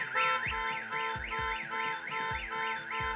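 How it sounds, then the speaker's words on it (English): A car alarm triggered on a parked car, wailing loudly and close in a fast repeating up-and-down siren sweep that cycles steadily without pause. "sends real-time notifications whenever the alarm is triggered"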